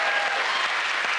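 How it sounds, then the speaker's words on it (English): Steady applause from a TV comedy panel show studio audience, dense clapping throughout with no pauses, fairly loud and close. "He started a spontaneous round of applause."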